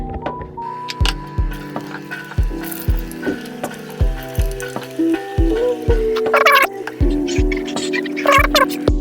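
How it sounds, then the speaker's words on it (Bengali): Potatoes dropped one by one into hot oil, with repeated sharp clacks and knocks in an uneven rhythm over a soft sizzle, close and fairly loud. "আর এপাশে আলু ভাজার জন্য তেলটা চাপিয়ে দিয়েছিলাম, গরম হয়ে গেছে। আর এক এক করে আলুগুলো এখানে দিয়ে দেবো।"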